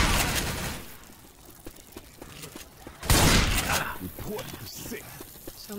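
Gunfire rattles in the zombie shooter Left 4 Dead 2, a cluster of shots with a sharp loud burst near the middle, mixed with footsteps and game noise while players talk.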